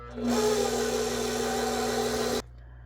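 A stand mixer churns coconut pound cake batter on first gear, a steady loud motor drone with a low hum that runs continuously for about two seconds before cutting off abruptly.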